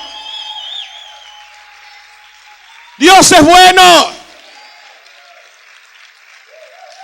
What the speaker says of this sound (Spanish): Grita y aplaude fuerte al Señor.